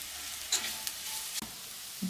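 Vegetables sizzling and frying in a pan while being stirred, a steady close hiss broken by a few scraping stirs and clinks, with no talking.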